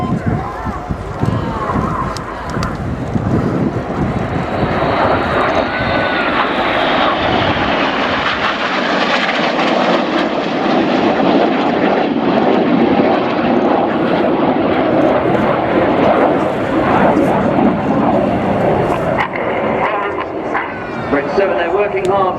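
Red Arrows Hawk jets performing the Corkscrew manoeuvre at a 2014 air display, a loud sustained roar of jet engines close by, with a commentator talking over it throughout.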